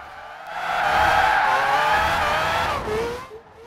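A 2002 Mazda RX7 Spirit R Type A with a drift build and locked differential slides in Forza Horizon 4, its engine roaring and tires squealing loudly in a sustained drift that swells, holds, then trails off near the end.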